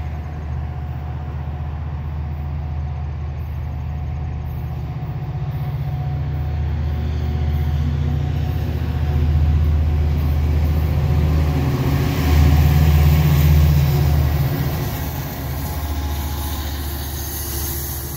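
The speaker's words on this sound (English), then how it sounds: "Saturday evening train." An EXO commuter train rumbles past with a heavy, continuous low roar that swells and echoes as it passes beneath the St. John's Boulevard overpass, then eases slightly.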